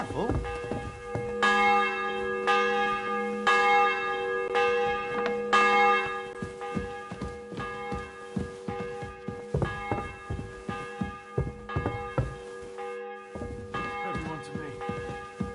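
Church bell tolling in Kingdom Come: Deliverance II, a series of loud, evenly spaced rich metallic strikes with long ringing overtones layered over one another, ending in a scattering of quieter clanks and knocks.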